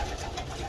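Breeding pigeons inside a loft give a brief low cooing murmur close by, with no voices.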